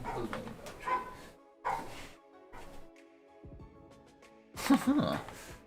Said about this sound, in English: Oh, you can hear that barking.